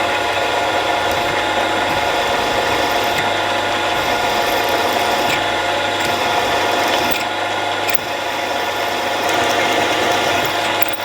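Drill boring 6mm holes through stacked metal plates for a knurling tool body, a steady loud grinding whir with gritty mechanical chatter, running continuously and alone without a break.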